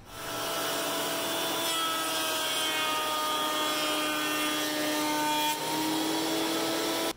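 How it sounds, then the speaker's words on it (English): A planer smoothing the faces of wood pieces for board game piece holders gives a loud, steady, continuous machine whine with a rough cutting texture, running unbroken for about seven seconds with no talk. "let's clean up some of these faces on the planer."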